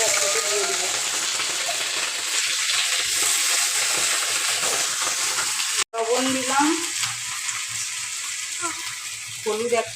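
Sugar frying in oil in a pan, giving a steady close sizzle with occasional stirring scrapes, as someone talks quietly over it and a brief cut breaks the sound midway.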